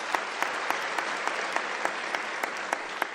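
An audience applauding at a university academic-year closing ceremony: steady, dense clapping from a large crowd at moderate distance, with a few sharper individual claps standing out rhythmically, no speech over it.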